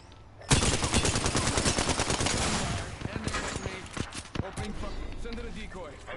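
Rapid automatic gunfire in the game Apex Legends, a loud sustained burst of fast shots that fades into scattered single shots and game sounds, with some speech mixed in.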